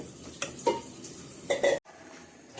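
Curry leaves go into hot oil in a frying pan, with a few sharp crackles and light pan clatter over a short sizzle that stops abruptly, then quiet background. No talking.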